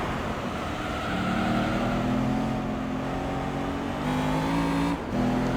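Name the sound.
car engine in 4th gear, Gran Turismo Concept video game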